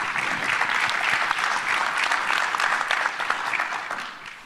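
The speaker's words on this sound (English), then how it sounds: "So get a quick round of applause for Jim." Conference audience at an autonomous vehicle event applauds steadily, a dense wash of clapping hands that stays loud and even throughout before thinning slightly at the end.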